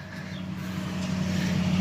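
Steady road traffic rumbles from a highway running right beside a newly built slab house on rural acreage, with cars and trucks blending into a continuous drone that swells slightly, heard alone outdoors.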